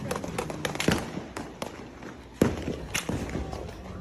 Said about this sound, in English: Firecrackers. Fireworks. Firecrackers.